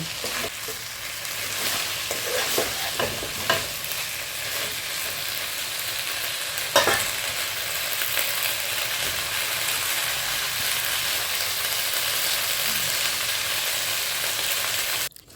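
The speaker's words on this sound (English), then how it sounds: "Allow this cook for a while so the spices and everything can simmer in." Nkwobi, cow skin cooked with spices, bubbles and sizzles in a pot as a steady close hiss with occasional soft knocks of a utensil, continuing without speech until it cuts off abruptly.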